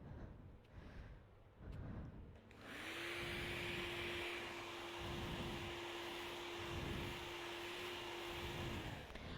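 A professional hair dryer switches on and blows continuously during a home haircut, a steady loud airy roar with a tonal motor hum after a brief quieter start.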